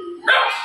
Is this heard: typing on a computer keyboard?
no